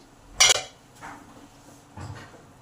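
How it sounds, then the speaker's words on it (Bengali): A metal lid set down over a pan of cooking shushni greens gives one sharp clanking clink, then a couple of softer knocks as it settles, close by and without speech. "এবার এটাকে চাপা দিয়ে দিই 10 মিনিটের জন্য।"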